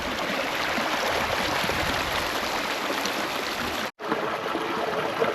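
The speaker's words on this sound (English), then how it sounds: "This is Bimbri Creek." Bimbri Creek, a small stream in a national park, flows steadily in a dense, close rush of babbling water, with a brief cut in the sound near the end.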